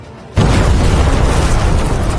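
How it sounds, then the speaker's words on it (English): A sudden, thunderous explosion sound effect bursts in after a brief quiet moment and sustains as a loud, dense roar of rumbling debris. "A cataclysmic explosion thundered across the arena as the lightning struck Ultulrus without mercy"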